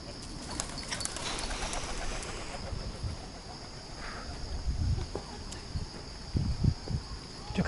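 Soft pigeon cooing in the distance over steady outdoor background noise on Gyeyangsan mountain, with some low thumps and shuffling nearby.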